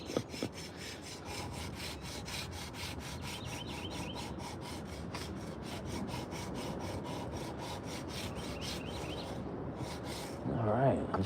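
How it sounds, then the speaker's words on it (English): A high-speed sander works a hand-carved wooden spoon. Its steady, close grinding hiss holds unbroken throughout, then grows slightly rougher near the end. "Watch out, high-speed sander."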